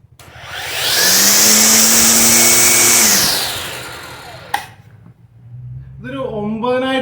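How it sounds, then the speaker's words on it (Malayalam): A cordless multifunctional machine runs at speed three, around 1800 rpm, giving a loud, steady high-pitched motor whir that holds for a couple of seconds, then winds down. A person starts talking near the end. "ഇനി നമ്മൾ ഒന്നും കൂടെ പ്രസ് ചെയ്താൽ ഇത് സ്പീഡ് ത്രീയിലേക്ക് മാറും ഇപ്പോൾ സ്പീഡ് ത്രീയിലാണ് നിൽക്കുന്നത്"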